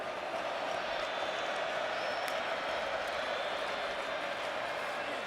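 A steady, distant roar from a packed college football stadium crowd at the 2023 Oklahoma vs Texas Red River Rivalry game serenades Stoops after his catch, a continuous wash of cheering with faint commentary underneath.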